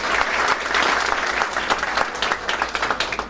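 Audience applause for university authorities at a conference, a dense, steady clapping from a crowd that carries on loudly through the whole stretch.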